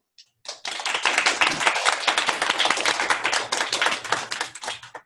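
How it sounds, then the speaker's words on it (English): An audience gives a warm round of applause to Pro Football Hall of Famer Mike Haynes at a speaking event, dense steady clapping that rises quickly, holds for about four seconds and then stops. "join me in giving a warm round of applause to Pro"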